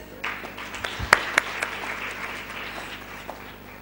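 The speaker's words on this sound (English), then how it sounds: "let's applaud ourselves" Brief applause from a women's chapter event audience, a few sharp claps standing out over a softer spread of clapping that fades within a few seconds.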